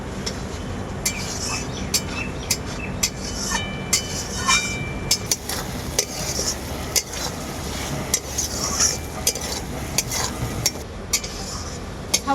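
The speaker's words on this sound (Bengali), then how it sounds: "এরপর আমি খুব ভালো করে একসাথে সব কিছু কষিয়ে নেবো" Bottle gourd stir-fried with a ground mustard, poppy seed and ginger paste in a pan, giving a steady low sizzle with repeated sharp scrapes and clacks of a spatula at close range, no talking.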